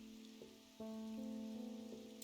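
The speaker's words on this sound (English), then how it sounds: "It's raining now" Steady, soft hiss of rain falling in a puzzle game, continuous throughout beneath sustained musical tones that swell partway in.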